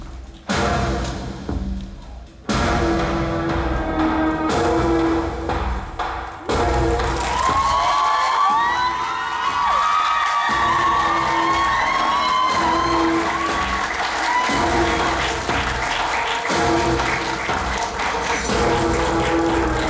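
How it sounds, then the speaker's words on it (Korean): A cinema audience applauds and cheers as the director and actors walk in, with loud sustained clapping under entrance music carrying through the hall. "큰 박수로 맞아주세요."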